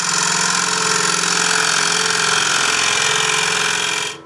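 A wood lathe spins a wet bowl blank while a gouge hollows out the center, giving a continuous loud, rough cutting roar with a steady hum that holds evenly and then cuts off at the end.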